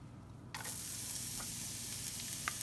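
Olive oil on high heat in a pan for calabacitas with cheese and corn: quiet at first, then a loud, steady sizzle bursts in after half a second and keeps crackling without pause.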